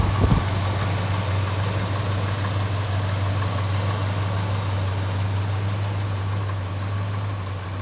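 A 1969 Dodge Charger R/T with a bone-stock exhaust, stock mufflers and tailpipes, idles steadily with a deep, even, continuous rumble that stays loud and close throughout, no revving.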